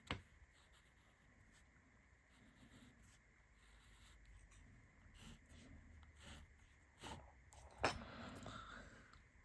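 A steel-nib fountain pen scratches and scrapes softly across paper in short, faint strokes, close up, with a few louder taps and rubs near the end.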